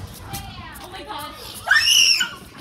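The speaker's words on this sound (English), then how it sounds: "You gotta give me credit for that horror movie scream" A person lets out a deliberate horror-movie style scream, a loud, shrill burst lasting about half a second, following muffled voices and background chatter.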